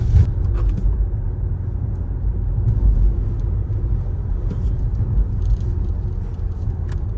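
A 2025 Audi Q5 SUV with about 200 horsepower accelerates hard, giving a steady, loud low engine and road rumble from inside the cabin with no breaks and no talking.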